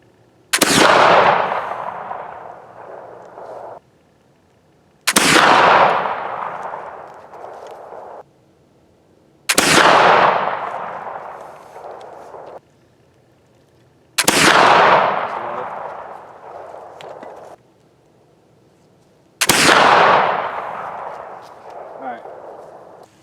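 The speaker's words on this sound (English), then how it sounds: "we went ahead and fired a quick 5 rounds through the 50 caliber Pedersoli Frontier rifle" A flintlock .50 caliber Pedersoli Frontier rifle with a 42-inch barrel fires five loud, sharp reports spaced about five seconds apart. Each blast trails into a long rumbling decay that fades before the next shot.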